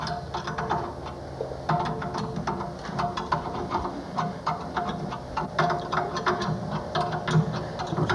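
A wrench tightens a nut during work on an antique Springfield Duryea car, producing rapid, repeated metallic ratcheting clicks at close range over a low background hum.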